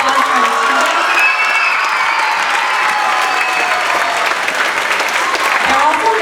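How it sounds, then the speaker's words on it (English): An elementary school spring concert audience claps for the student musicians in a steady, full round of applause that carries through to the end. "Let's have one more big round of applause for our students."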